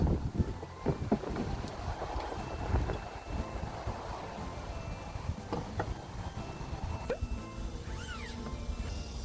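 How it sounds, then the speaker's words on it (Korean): Strong wind buffets the microphone in a constant loud rush at a freshwater carp fishing spot, with no talk over it. "바람이 엄청 불어요. 바람이 장난이 아님."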